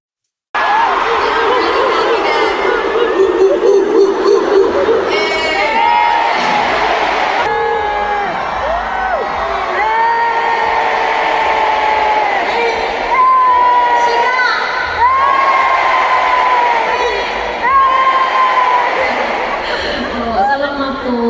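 A K-pop concert crowd in the Philippines cheering and chanting, loud and sustained with whoops, shrieks and rising calls layered over a dense roar of voices from start to finish.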